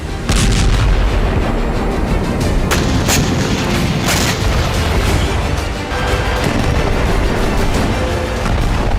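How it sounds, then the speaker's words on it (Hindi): Explosions from Israeli air strikes on southern Gaza, loud heavy booms and blasts in a dense continuous barrage with sharp bursts throughout. "इसीलिए इजरायली सेना ने एक बार फिर दक्षिणी गाजा पर एयर स्ट्राइक बढ़ा दी है।"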